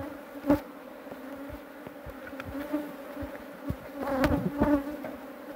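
Honeybees buzzing at an opened hive during a colony split late in the flowering season, a steady droning hum with louder close passes as individual bees fly near.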